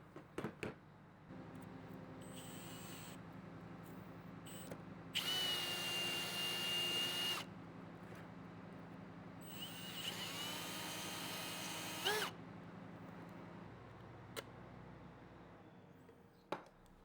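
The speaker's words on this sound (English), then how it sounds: "More power tools." A power tool whirs in two loud, high-pitched bursts of a few seconds each. A steady low hum runs underneath and there is no talking.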